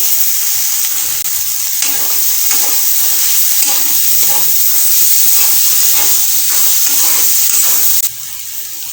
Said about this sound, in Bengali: বেগুনগুলো ভেজে রেখেছিলাম সেগুলো দিয়ে দিচ্ছি।